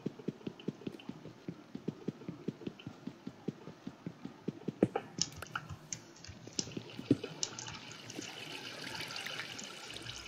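Rhythmic splashing or sloshing water in a modded survival video game, a steady pattern of soft wet thuds that turns into a broader hissing wash toward the end, with no talking.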